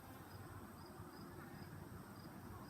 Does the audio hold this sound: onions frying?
no